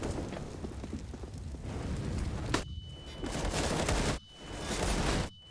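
CS:GO gunfire during a pro match on the Vertigo map: dense, loud bursts of shots and impacts that crackle continuously, with a few abrupt cutoffs and a steady high tone running through.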